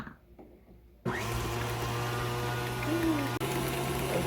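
An electric mixer beating blondie batter with sugar starts abruptly after a quiet moment, then holds a steady loud motor whine with a low hum, briefly dipping near the end, close by.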